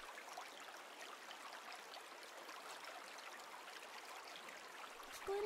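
Flowing stream water in a horror adventure video game, a soft steady rushing trickle heard at low level throughout, alone with no talk, ending with a brief tonal sound.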